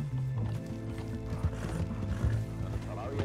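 Horse hooves clop at a steady rhythm in the Red Dead Redemption 2 video game, mixed with rattling, mechanical game sounds and a constant low hum, at moderate, fairly quiet loudness.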